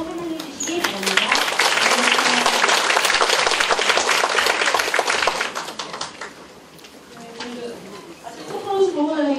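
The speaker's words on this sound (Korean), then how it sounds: "강사님을 큰 박수로 환영해 주시기 바랍니다" A lecture audience applauds to welcome a guest speaker, a parenting coach: dense, loud clapping for about six seconds that then thins out as a voice begins to talk.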